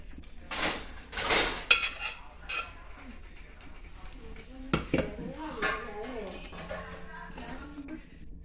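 A metal pot of fish curry (chempalli) being swirled on a stove, with scattered clanks and scrapes of pan against burner at irregular intervals, close by.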